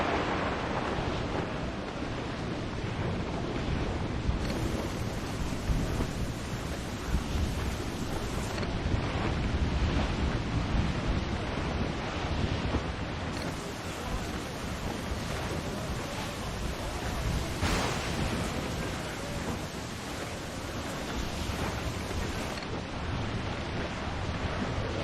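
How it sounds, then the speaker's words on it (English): Storm waves crash and wind roars continuously at sea in Assassin's Creed IV: Black Flag, a dense, loud wash of surf and gusts with occasional louder surges and no speech. "Storm, Captain! Looks bad!"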